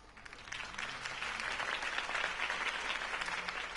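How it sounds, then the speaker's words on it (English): Crowd applause follows Harvey Dent's campaign speech in Batman: The Enemy Within, a broad, steady wash of clapping from many hands at moderate distance, fairly faint and continuous. "If only Mr. Wayne, my campaign's largest backer, could have heard that applause"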